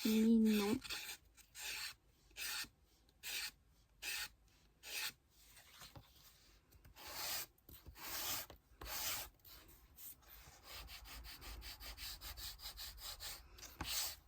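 A nail file rasps against the edge of a pink fairy scrapbooking card, a series of short, close scraping strokes in a steady rhythm, some longer and some quicker, with no talking.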